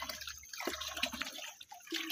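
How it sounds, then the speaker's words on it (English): Spring water runs through an open trench in a village, making a soft irregular trickle and gurgle with small splashes, close and faint. "So the dirty water passes through this way."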